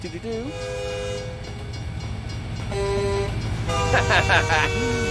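A freight train rolls past in American Truck Simulator, far off in Texas, sounding long tonal horn blasts over a steady rumbling rail drone, with someone talking over it.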